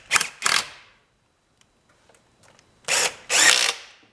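Ratchet tightening valve cover bolts on a GM Ecotec engine: two short bursts of rapid clicking, a quiet pause with faint taps, then two longer, louder ratcheting runs, close up and with no talk.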